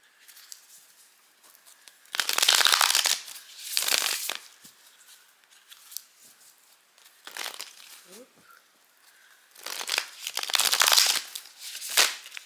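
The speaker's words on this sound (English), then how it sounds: "The shuffling is not going so well for this pile." A tarot card deck being shuffled by hand, heard as several separate bursts of close, papery riffling and crinkling, with quiet pauses between them.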